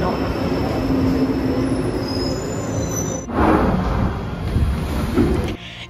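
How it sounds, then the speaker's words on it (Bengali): A London Underground train rumbles at the platform of Euston tube station, with a loud steady roll and wheel squeal, then a burst of rushing noise as it moves off, fairly close. "আমি এখন লন্ডন ইউস্টনের টিউব স্টেশনে, আর দেখো একই প্ল্যাটফর্ম থেকে কিন্তু দু জায়গায় ট্রেন ছাড়ে"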